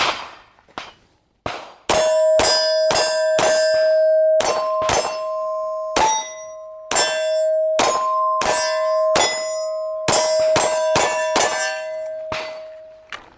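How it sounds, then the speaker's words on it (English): Pistol rounds from a PSA Micro Dagger strike steel targets, each hit ringing out as a loud, sharp metallic clang with a lingering tone, in a rapid, irregular string of impacts with short pauses between bursts. "gonna go over here, shoot some steel."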